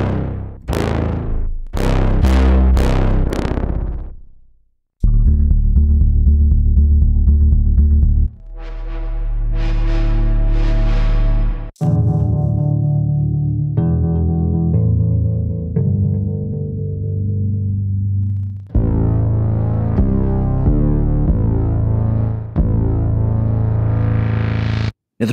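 Deep bass presets from the Output Substance bass engine for Kontakt, a series of loud synthesized bass phrases ranging from pulsing distorted stabs to sustained rumbling low notes, separated by short breaks.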